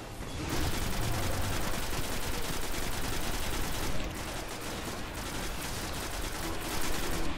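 Sustained rapid gunfire blasts through an enemy shield in the video game Destiny, a dense, loud, continuous fusillade with a brief dip midway before the shooting resumes.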